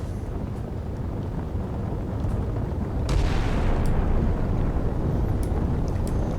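Scharnhorst-class battleships fire their guns in the naval game Sea Power: a heavy, distant boom rolls out over a steady wind-like wash of sea noise.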